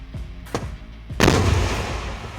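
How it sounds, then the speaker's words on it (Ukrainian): A few sharp, heavy booms in quick succession, the last one loudest and followed by a rumbling, decaying tail. "Постріл."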